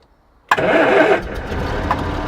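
The engine of a 1981 British military Land Rover cranks and catches abruptly, then settles into a rough, loud idle that wavers slightly, heard up close with no talking.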